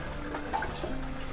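Water from a homebrewing wort chiller radiator drains into a kitchen sink, a steady splashing trickle heard close up and alone for a brief moment.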